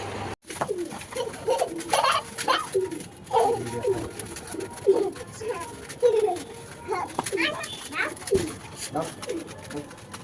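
Pigeons coo repeatedly in soft rolling phrases close by, mixed with a voice and other talk around a home.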